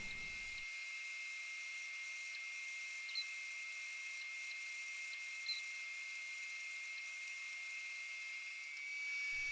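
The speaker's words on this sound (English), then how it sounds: "first we're just gonna take out material with the bandsaw" A bandsaw runs steady while trimming an epoxy popper blank, giving off a thin, constant high-pitched whine. It sounds fairly quiet and even, with a couple of tiny ticks, and no one speaks over it.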